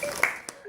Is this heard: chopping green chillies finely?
no